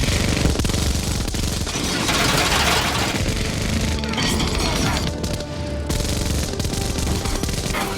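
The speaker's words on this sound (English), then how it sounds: "you can use the machine gun turret" Sustained machine gun turret fire from the Halo CE video game, a dense, continuous loud rattle of rapid shots that runs for the whole stretch with brief dips and no talking.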